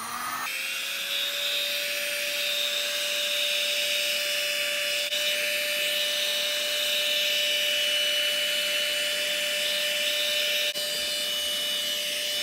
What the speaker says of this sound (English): we can melt that wax a little bit with a heat gun